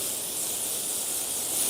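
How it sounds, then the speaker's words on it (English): Spray bottle misting seed-starting soil blocks made with peat moss, a soft continuous hiss of fine spray lasting a couple of seconds, close and fairly quiet. "Time to mist."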